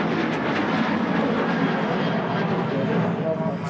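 A Ryanair airliner at Manchester Airport rolls with a steady, loud jet engine roar that stays even throughout, heard from a moderate distance with talking over it.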